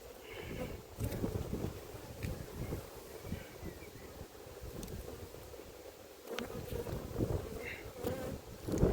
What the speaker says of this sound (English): This lot, I'm not even in their hive and they're still pestering me